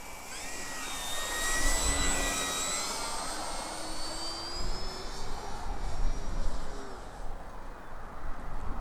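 A Turbo Timber Evolution model plane makes a flaps pass in a northwest wind, its electric motor whining in shifting pitch as it sweeps by at a distance over gusty wind noise.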